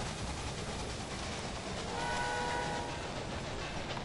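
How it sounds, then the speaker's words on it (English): A train pulls in during the railroad management video game Railway Empire, giving a steady rolling rumble with a faint horn-like tone partway through, loud and continuous with no talking. "my first train has made it to Elko."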